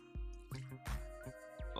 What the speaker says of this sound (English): I'm gonna pour me a healthy pour of some Knob Creek